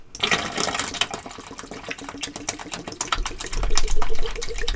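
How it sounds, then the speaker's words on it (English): Water softener cleaner being poured into a brine well: an irregular glugging, splashing liquid pour, close and moderately loud, with a low rumble building in the last part. "You're going to put 16 ounces of this cleaner right into the brine well."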